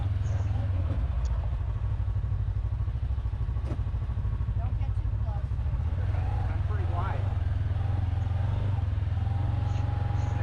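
Off-road vehicle engine rumbling steadily while crawling over rocks near Bartlett Lake's creek and canyon, a loud low drone with occasional clatter throughout.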